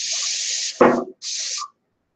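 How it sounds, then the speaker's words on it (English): Paint spray gun, its nozzle partly clogged with dirt, spraying orange paint: two steady loud hissing bursts of spray separated by a short thump, the second burst briefer, with no talking. "Not spraying a real good pattern."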